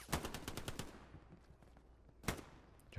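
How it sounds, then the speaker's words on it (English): Machine gun fire in the World War II shooter Hell Let Loose: a rapid burst of close, sharp shots, then a quieter gap and a second single loud crack later on, with no talk. "MG fire comes in"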